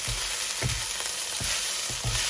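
Nasi goreng sizzling steadily in a pan as soy sauce is stirred in, with a continuous frying hiss broken by a few soft scraping stirs at regular intervals.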